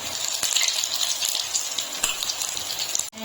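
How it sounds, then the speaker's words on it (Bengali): Amudi fish frying in a pan over a low to medium flame, giving a steady, loud broadband sizzle with a few sharper crackles, and a brief dip near the end. "লো টু মিডিয়ামে রেখে আমি ভেজে নেবো"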